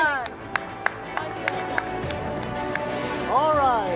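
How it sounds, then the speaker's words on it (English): At an award ceremony, scattered sharp claps rise over a low crowd murmur, with a few distinct hits standing out in the first half; a voice comes in near the end. "Ladies and gentlemen, huge round of applause for Ravina Tandon."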